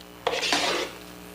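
Fried kangkong being mixed in a bowl, a short burst of utensil scraping and clinking against the dish lasting under a second, close and fairly loud, with quiet before and after.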